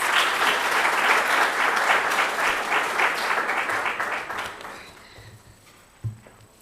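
Audience applause at a university language policy campaign launch, a steady broad wash of clapping that thins and fades out after about five seconds, followed by a brief thump.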